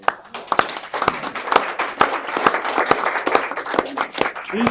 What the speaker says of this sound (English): if we could have a round of applause for the people that organized this today